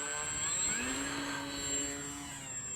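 A KI-61 Hien model airplane's motor whines loudly on takeoff, its pitch rising and sweeping as the plane speeds away, with a steady high tone above.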